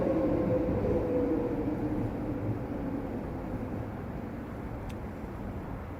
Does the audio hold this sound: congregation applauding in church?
no